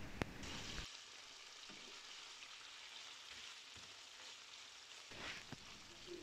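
Marinated pork is stir-fried in hot oil in a pan, giving a steady, close sizzle and crackle that continues throughout with a few brief stirring scrapes and no talking.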